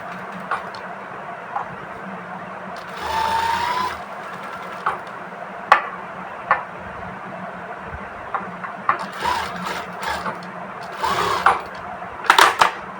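A sewing machine runs in short stitching bursts with sharp clicks and rattles between pauses, fairly close and without talk.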